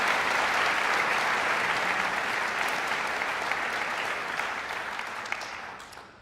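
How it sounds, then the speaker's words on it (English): Dense applause from a graduation audience at a college of architecture ceremony, loud and steady from the start, then gradually thinning and fading out over about six seconds. "Another round of applause for them."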